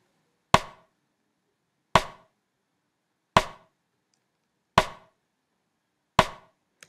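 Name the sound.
side stick snare drum beat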